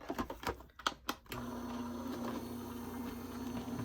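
An Anna Griffin Empress Mini die-cutting machine feeds a card through with an embossing mat. A few sharp clicks come first, then a steady, close motor hum with a low whine runs to the end.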